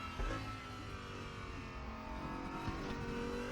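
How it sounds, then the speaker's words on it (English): An Audi GT4 race car engine in the RaceRoom racing game revs and pulls up through the gears, a steady close engine drone with rising pitch, faint and uninterrupted. "You can hear that engine"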